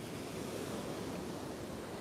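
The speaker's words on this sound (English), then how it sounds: "you can hear that we've got quite a lot of wind over here in Magaluf this afternoon" Strong wind buffets the microphone over steady surf breaking at a beach in Magaluf, Mallorca, a loud continuous roar with no pauses for the full stretch.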